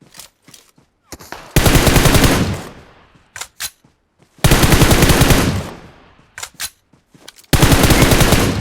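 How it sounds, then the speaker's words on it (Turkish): Automatic gunfire from the video game PUBG Mobile comes in three long, loud, close bursts, with short single shots and quieter pops in the gaps between them. "Her sıktığı mermi headshot."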